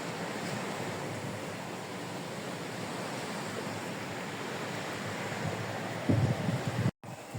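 Sea waves below a house wash in a steady, hissing surf with a wind-like rush, ending with a brief louder thump and a short dropout.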